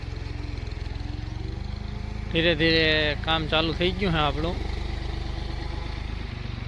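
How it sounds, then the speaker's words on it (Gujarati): A loader works filling a tractor trailer, its engine rumbling low and steady throughout while someone speaks over it for a couple of seconds. "લોડર ને ટ્રેક્ટર ભરવાનું ચાલુ કરી દીધું છે"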